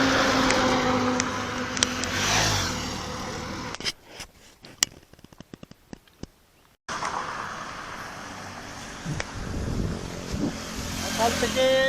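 Vehicles rush past on a highway, a steady roar of engines and tyre noise that drops away briefly midway before resuming loudly, with voices talking over parts of it.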